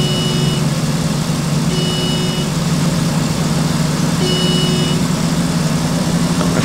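Steady, loud drone of a bus engine under heavy throttle on a hilly route in the OMSI bus simulator game, a continuous low rumble with faint intermittent tonal beeps over it.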